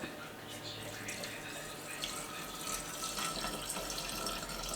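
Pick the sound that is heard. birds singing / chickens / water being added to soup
water being added to soup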